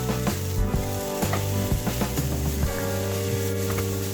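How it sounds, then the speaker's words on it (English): Green onions and fried rice sizzle loudly in a pan over low heat while being stirred, with close scraping strokes layered over a steady hiss and no speech. "Put in the green onions. You can start to put at low heat. You just want to cook a bit of your green onions."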